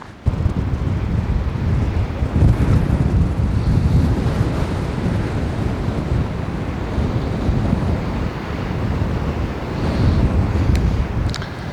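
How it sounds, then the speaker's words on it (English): Strong wind blows outdoors on a warm day during a road trip through Alberta's national parks, a loud continuous rumbling buffet against the microphone that holds steady throughout, with no talk. "it's quite windy here"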